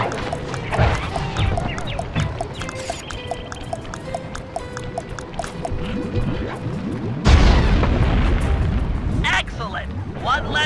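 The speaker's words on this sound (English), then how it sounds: "Place the dynamite when you get near the anchor, or kaboom!" A dynamite blast in the Sly 3 video game destroys a balloon anchor above the Venetian skyline. A loud, sudden broadband boom bursts in partway through and sustains over busy game sounds and music.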